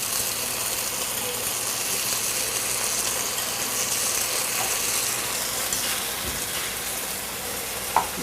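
Ginger garlic paste frying with onions in a pan for Hyderabadi chicken biryani, with a steady crackling sizzle and scraping stir strokes, a brief sharper clank near the end.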